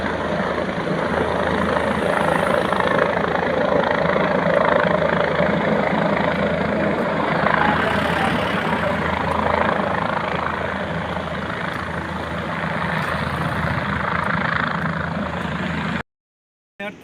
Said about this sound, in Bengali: এই একটা হেলিকপ্টার যাচ্ছে